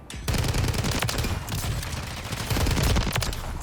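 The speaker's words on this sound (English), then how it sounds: "it's one of those assault rifles that have a little bit of a slower fire rate" Video game STG44 assault rifle firing in Modern Warfare III, a sustained burst of rapid, fairly evenly spaced automatic shots, loud and close, with no talking.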